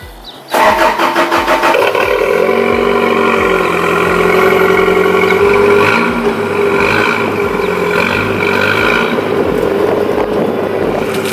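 Mini truck engine cranks and catches after a brief moment of quiet, then settles into a steady, close-up idle.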